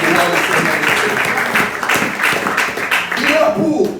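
A Sunday church congregation applauds and claps steadily and fairly close, a dense continuous wash of hands with voices mixed in throughout.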